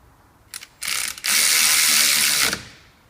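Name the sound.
ratchet with 13mm socket tightening brake bolts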